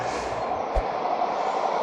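A train runs along a railway track beside a city park, a steady broad rumble of rolling wagons with one brief heavier thump near the middle, loud and close throughout with no voices.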